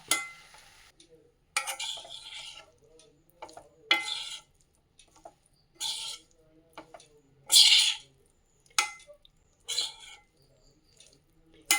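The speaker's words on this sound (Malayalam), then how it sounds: "ഉണങ്ങി വെച്ച മാങ്ങ ഈ നല്ലോണം ഇളക്കണം" A spoon stirs thick mango pickle made with dried mango in a pan over a low flame, in short, scraping bursts separated by quiet pauses, close by.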